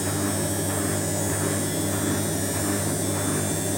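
A repaired Ariston washing machine runs with its motor producing a steady, loud electrical hum and buzz, constant and unchanging throughout with no voices.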